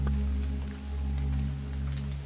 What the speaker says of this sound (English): Even now, the sound of the rain is growing faint.